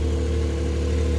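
A Porsche 911 GTS 4 Cabriolet engine idles while still cold, a steady, close, low throbbing hum with an even rumble and no speech over it.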